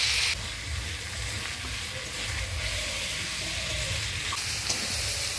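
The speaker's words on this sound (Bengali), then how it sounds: "ডিম আলু ফুলকপি দিয়ে সব কিছু দিয়ে কষিয়ে নিলাম" Eggs, potato and cauliflower sautéing in spices in a pan give a steady, close sizzle and hiss that runs unbroken throughout, with no talking.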